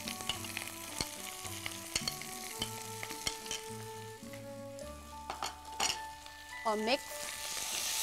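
Chicken sizzles with garlic in a pan, a faint steady frying hiss broken by occasional clinks of a utensil, with soft tonal notes in the background.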